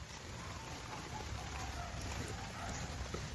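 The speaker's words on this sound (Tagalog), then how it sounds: "It's raining." Rain falls steadily during a stop, a soft, even wash of drops that holds throughout at low level with no talking.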